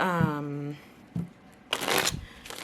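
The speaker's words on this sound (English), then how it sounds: "I'm going to go ahead and give these cards the shuffle" Tarot cards being shuffled by hand, heard as brief riffling bursts near the end, after a short stretch of speech and a faint tap.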